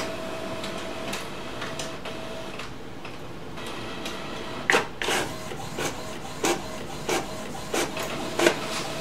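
An HP Officejet Pro 8620 inkjet printer scanning, a steady mechanical whir of the moving scan head punctuated by a series of sharp clicks and ticks in the second half, close and clear with no talking.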